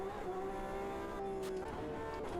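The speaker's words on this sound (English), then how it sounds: "I do love hearing the the RSR scream in high gear at high revs" A Porsche 911 RSR GTE race car in a sim racing game screams at high revs in high gear on the Nordschleife, a steady tonal engine whine held throughout at a fairly faint level.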